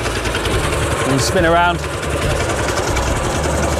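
A small lawn mower engine hums steadily while someone talks, then revs up briefly with a rising whine before settling back down.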